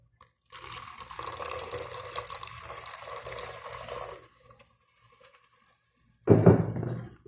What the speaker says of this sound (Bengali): এখন এখানে দিয়ে দিব পরিমাণ মতো পানি।